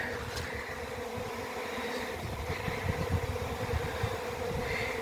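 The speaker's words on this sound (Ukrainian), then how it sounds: "зацвіла акація і почався, почалось роїння бджілок" A swarm of honeybees buzzes outdoors beside flowering acacia, a dense, steady drone of many wings heard close by, with no voices.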